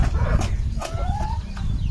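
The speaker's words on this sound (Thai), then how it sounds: "นี่คือ ไก่มาลักไข่ของพี่นิว" Chickens cluck and call in short bursts close by in a chicken coop, with a rising squawk in the middle and a steady farmyard rumble underneath.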